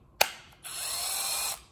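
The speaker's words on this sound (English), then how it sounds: "the impact works" A short click, then a Milwaukee cordless impact driver whirring steadily for about a second before cutting off, close and fairly loud.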